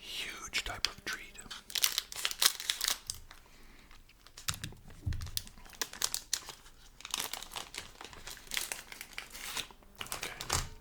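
Crinkly snack wrapper of the cupcake type being peeled open, with busy, close rustling and crackling throughout, under soft whispering.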